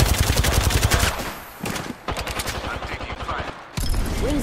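Apex Legends gunfire, fast automatic bursts rattling in rapid rhythmic runs broken by short pauses, loud and close in the mix over game sounds.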